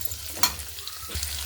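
Onions fry gently in a pan for potato puri curry, giving a quiet, steady sizzle with a brief stirring clink, and no voices.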